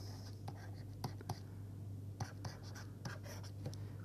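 Pen or chalk writing out a square-root calculation during a lecture, faint intermittent scratching strokes over a steady low hum.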